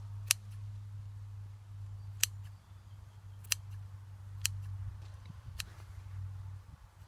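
Scissors snipping through yarn while making pompoms, five sharp, separate cuts spaced over several seconds against a low steady hum, with no talking.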